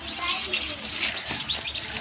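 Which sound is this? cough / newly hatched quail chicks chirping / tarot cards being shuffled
newly hatched quail chicks chirping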